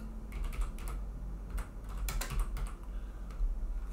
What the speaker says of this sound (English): what we're going to type in here is frame rate